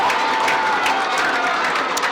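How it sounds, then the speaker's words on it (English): Malvern crowd cheering from across the field at a high school football game against Robinson, a dense, continuous roar of voices and some clapping heard at a distance, steady for a couple of seconds. "Malvern crowd making some noise across the way, letting these Leopards know they appreciate the effort"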